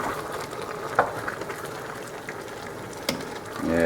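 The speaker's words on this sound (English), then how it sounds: "occasionally you need to stir it." Squash and swiss chard cook in a pan, a steady soft sizzle and bubbling throughout, with a couple of brief scraping stirs, close and moderate in level.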